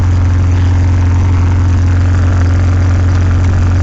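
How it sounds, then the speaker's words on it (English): A 2000 Jeep Grand Cherokee Laredo 4.0 engine idles close by with a loud, constant low throb and a rough, hissing texture from a leaking exhaust. "That's a pretty bad exhaust leak."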